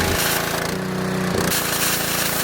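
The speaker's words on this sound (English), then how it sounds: "And this is a pressure washer." A pressure washer sprays a LEGO minifigure, giving a loud, steady motor drone with a continuous hissing water jet that shifts pitch briefly midway, close and alone without speech.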